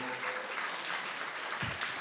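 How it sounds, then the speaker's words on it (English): A large audience at a talk on pro-Palestine activism bursts into steady applause, a dense wash of clapping that holds for about two seconds, with no voices over it. "well, you clap"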